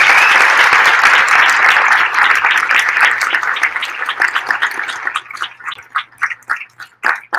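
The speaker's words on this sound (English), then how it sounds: "Please give a big round of applause for our police officers" An audience at a mayoral installation ceremony gives a loud round of applause for police officers, dense at first and then thinning into scattered individual claps before dying away.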